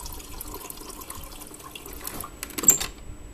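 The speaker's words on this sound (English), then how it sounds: "come back over to the refrigerator, and put water in it" Water runs from a refrigerator's built-in dispenser into a container, a soft continuous trickle with faint splashing that grows slightly louder toward the end.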